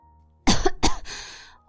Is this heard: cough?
yes